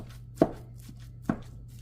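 Two sharp chops of a utensil breaking up browning meat in a cast iron pan, spaced about a second apart over a steady background sizzle.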